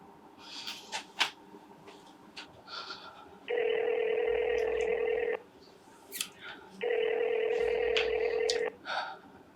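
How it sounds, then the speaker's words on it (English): A telephone rings unanswered in two long, steady ring tones separated by a pause, with a voice and small handling noises in the gaps between rings. "Answer the phone."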